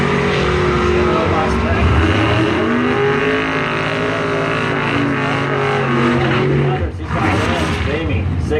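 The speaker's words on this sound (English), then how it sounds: "Taking on the Icus Performance Lane Mopar, Al Brouchard from Allegan, 72 Duster number 4" A 1972 Duster and a Chevy S10 race in a bracket drag race at the strip, their engines roaring loudly and continuously as the pitch rises, with an announcer talking over the noise.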